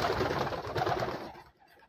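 Racing pigeons coo inside a loft aviary: a few soft, throaty, muffled coos at close range over faint shuffling, tapering off toward the end, with no speech.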